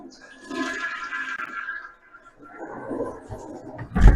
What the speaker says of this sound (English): I'm going to go ahead and walk back into the bathroom